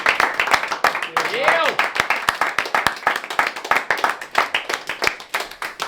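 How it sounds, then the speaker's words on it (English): A crowd at a Sunday league football club claps steadily in a dense round of applause for a retiring player, with a cheer or whistle rising briefly near the start and voices mixed in. "I'd like to raise a cheers and a round of applause"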